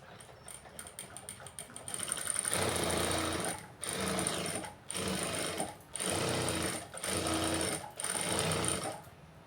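Sewing machine stitching the back lining of a garment, running in several bursts of rapid mechanical chatter separated by short pauses, close and clear with no talking.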